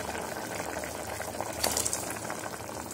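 Mutton intestine (kudal) gravy bubbles uncovered in a pot, a continuous close simmering burble with crackling pops and a slightly louder surge of bubbling midway.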